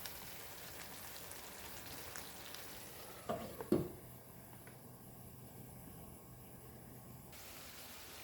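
Chicken wings and onions caramelizing in a pan give off a faint, steady frying hiss, broken once by a couple of brief knocks midway.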